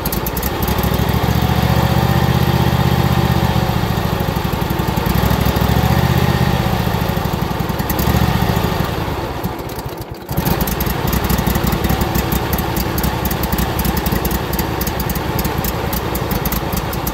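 A car engine running steadily at idle right after being started with an electronic jump starter on a cold morning, loud and close with a continuous even drone and a brief dip partway through.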